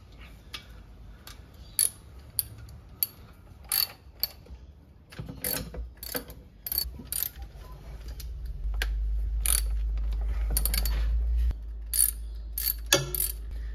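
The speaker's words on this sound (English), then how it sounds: "it's time to actually get our pan bolts out. So we've got the six pan bolts to get out." Six bolts being backed out of a Mercedes 722.9 transmission pan on an ML350 W164 with a hand ratchet, giving bursts of close, sharp mechanical clicking and ticking separated by short pauses, with a steady low hum underneath.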